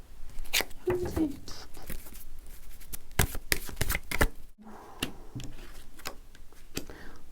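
Tarot cards being shuffled by hand, a run of crisp riffling and tapping bursts with short pauses between them, close and fairly quiet, with soft murmuring in the background.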